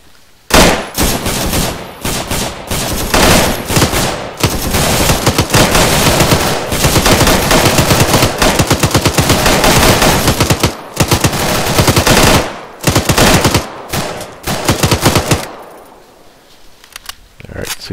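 Video game machine gun fire at a firing range, loud rapid bursts of automatic shots that continue almost nonstop before a brief lull near the end, with voices mixed in.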